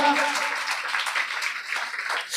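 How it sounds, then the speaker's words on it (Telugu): A church congregation clapping their hands to praise God during a Telugu Sunday sermon, a steady, dense wash of many hands applauding together, moderately loud and unbroken, with a voice speaking over it. "చప్పట్లు కొట్టి ప్రభుని మహిమపరచుదాం ఒకసారి"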